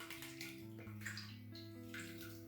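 A cup of water being poured into a DIY cleaner mix of Pine-Sol Lemon Fresh and Dawn dish soap, heard as a faint, continuous pouring and splashing with nothing spoken.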